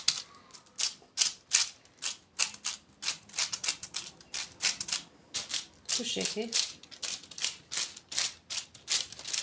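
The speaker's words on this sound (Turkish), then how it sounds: "Yağlı kağıtta biraz ses çıkarıyor ama yapacak bir şey yok." Parchment paper crinkling and rustling as spoonfuls of apple cookie dough are placed on it, close and loud in rhythmic bursts, with a brief spoken remark partway through.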